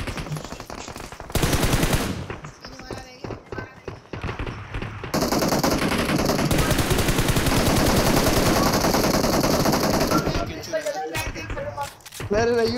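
Video game gunfire crackles in rapid automatic bursts, loud and close, with a long sustained volley in the middle, while players talk and shout over it.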